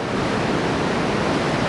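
Ocean surf at the Anglet surf spot, long powerful left-hand waves rolling in under offshore wind, heard as a steady, dense wash of breaking water with no voices.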